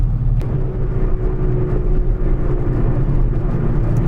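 The 998cc engine of a 1987 Austin Mini 1000 pulling the car along, a loud, steady low drone and rumble from inside the cabin, unbroken and without speech.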